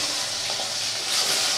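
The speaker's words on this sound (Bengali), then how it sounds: "দিয়ে কচুগুলো একটু ভেজে নেব।" Taro pieces sizzle steadily in hot oil seasoned with black cumin, a dense, even crackling hiss that stays close and loud throughout without pause.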